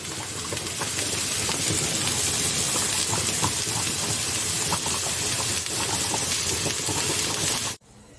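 Squash boiling in a pot of water on a home stove, giving a steady, loud bubbling and steamy hiss that runs unbroken for several seconds and then cuts off abruptly near the end.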